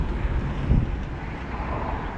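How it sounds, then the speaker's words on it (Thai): Wind gusts against a 2.4-metre Chinese-style beach umbrella with plastic fittings outdoors, a steady low buffeting rumble that swells briefly in the middle, with no talking. "ลมมันพัดมานะ"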